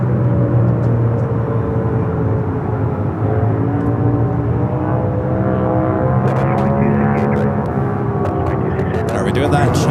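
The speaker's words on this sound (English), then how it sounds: "777 rolling down at 25 left." A China Airlines Boeing 777 rolls down the runway for takeoff at LAX, its jet engines a loud, steady roar with a slowly rising whine that builds across the clip, heard from the airport sidelines.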